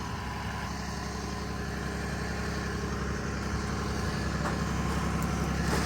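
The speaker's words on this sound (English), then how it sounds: "He's gonna straighten the tractor out." A tractor engine runs steadily in a low, even rumble while the tractor is maneuvered, moderately distant and fairly quiet, with no talk.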